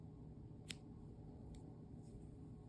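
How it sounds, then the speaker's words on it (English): Scissors snip through crochet yarn, a single sharp close cut followed by a couple of fainter clicks over a quiet room hum. "cut my yarn"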